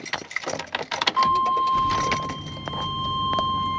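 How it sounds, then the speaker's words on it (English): A 1999 Chevrolet Tahoe with 204,000 miles fires up after an O2 sensor adapter install, keys jangle, a chime rings, then the engine cranks and settles into a steady idle, close and fairly loud. "We're gonna go ahead and fire up this engine and see where we're at."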